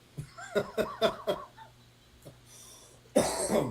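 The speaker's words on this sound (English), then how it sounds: "There, I coughed again." Several short coughs in quick succession, close and fairly loud, then a pause and a harsher, throaty burst of coughing.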